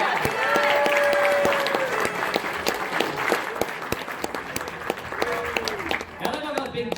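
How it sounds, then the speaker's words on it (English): An audience applauds a guest of honor at a cider festival closing ceremony, with sustained clapping that fades slightly and voices mixed in beneath it. "One more round of applause for our wonderful guest of honor."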